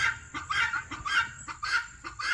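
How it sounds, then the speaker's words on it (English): Big, heavy Cochin chickens cluck in short repeated bursts, close by and fairly loud, with a soft farmyard background and no talking. "These are some big old chickens."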